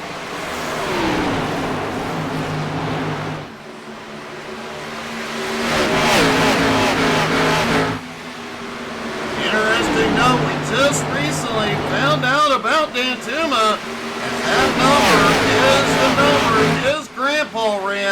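Race cars roar around the Indianapolis track in a home motorsports race, engines revving and rising in pitch in repeated passing sweeps, with a commentator's voice talking over the engine noise throughout.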